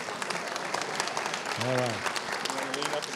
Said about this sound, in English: He deserves every one of your claps